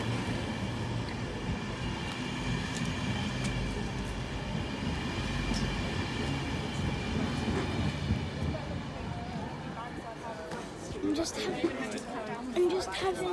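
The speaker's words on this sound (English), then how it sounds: "there's going to be the Castlegate train coming in very, very soon" Castlegate line train arriving at a station platform, a steady low rumble of rolling wagons and rail noise building over about thirteen seconds, with screechy metallic squeals toward the end and background chatter from people nearby.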